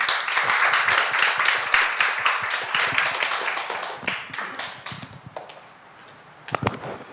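An audience at a forum claps for several seconds, a crisp and fairly close mass of claps that thins out, then a few scattered final claps near the end.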